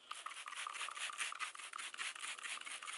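A drill brush scrubbing a car floor mat gives a continuous, close, harsh rubbing and scouring noise, steady and unbroken for the whole stretch, with no talking.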